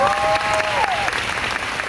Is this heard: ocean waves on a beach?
no